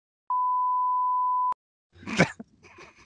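A censorship beep in a Spanish-language podcast: one steady, clean tone lasting just over a second and cut off sharply, followed after a short gap by brief muffled rustling and noise.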